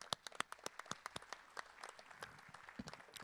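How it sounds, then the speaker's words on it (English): An audience claps for a volunteer called up to the piano during a talk on collaboration: a short burst of applause with distinct separate hand claps, fairly sparse and moderately distant, fading toward the end. "Yes, a round of applause for you."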